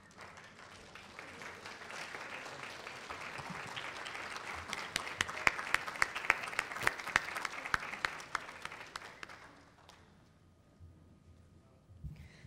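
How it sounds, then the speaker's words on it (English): Audience applause swells steadily, with dense clapping building to a peak before fading out near the end. "so we can give you another round of applause"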